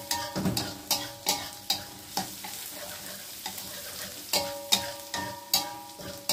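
Mushrooms are stir-fried in a pan, with a steady sizzle under rhythmic scraping strokes of a spatula, repeating roughly every half second, close and moderately loud.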